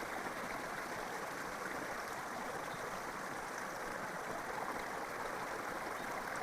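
River water flows steadily along a stream, a constant rushing wash that stays even and unbroken throughout, with no voices.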